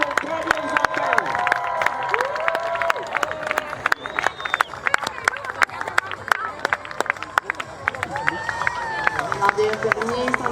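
Air show crowd clapping for jet pilots, a dense ongoing patter of applause with scattered cheers and background chatter mixed in.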